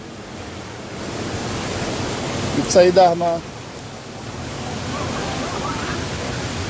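An overflowing river near Ambuklao in Barangay Ibayo roars in heavy rain, a loud, unbroken rush of water close by, with someone speaking briefly over it partway through.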